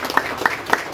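Audience clapping at a school alumni gathering honouring former teachers in Haveri: three short, evenly spaced bursts of claps in about a second, fairly close and moderately loud, with no talking.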